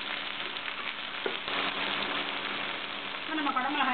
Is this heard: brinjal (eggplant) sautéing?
yes